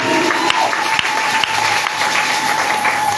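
Church congregation bursting into loud, sustained applause during a sermon, a dense wash of many hands clapping close by with a few sharper claps standing out.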